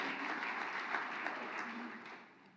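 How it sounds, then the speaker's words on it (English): A conference audience applauds the event organisers with steady, dense clapping that holds for a couple of seconds and then tapers off toward the end. "Another round of applause to our fantastic organisers."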